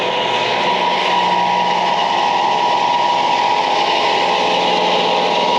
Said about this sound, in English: Let's go and listen to some engines running